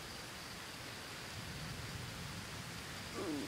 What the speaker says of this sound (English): The rain's really picking up though.